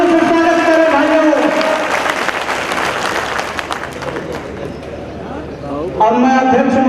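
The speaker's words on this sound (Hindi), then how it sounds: "आप लोग जोरदार तालियों से स्वागत करें भाइयों।" A crowd at a workers' union meeting in India applauds to welcome a guest, loud clapping swelling under someone speaking through a PA, then fading as his voice carries on.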